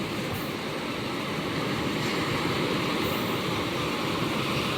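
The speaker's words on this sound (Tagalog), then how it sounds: "Sa malaking alon na yan o." Big ocean waves at sea, a loud continuous roaring wash of surf and wind noise with no break throughout.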